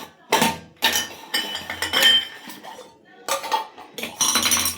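Metal dishes, pots and cutlery clink and clatter as they are handled and set down, loud close bursts separated by short pauses, with no talking.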